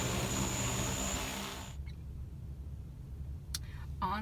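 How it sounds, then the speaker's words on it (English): A drone hovering overhead on a film set makes a steady, buzzing motor whine nearby, then cuts out abruptly, leaving a low background rumble with a couple of brief faint noises. "helicopter noise you're hearing is actually our drone hovering above our bike"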